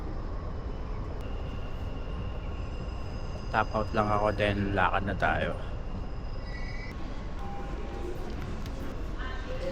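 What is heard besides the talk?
riding a metro train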